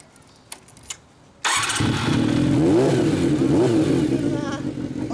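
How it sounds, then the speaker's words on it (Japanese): A 1998 Kawasaki Zephyr χ fitted with a Yoshimura exhaust starts after a couple of faint clicks, then settles into a loud, steady, close rumbling idle with slight revving. "エンジン音聞かせてもらえる？"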